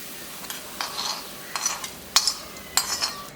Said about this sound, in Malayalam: നല്ലോണം മിക്സ് ചെയ്യാം